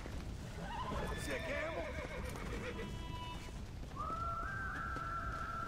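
A horse in Red Dead Redemption Undead Nightmare whinnies in a shrill wavering cry, then gives a second long, high neigh, both over a constant rough background, with people talking at points.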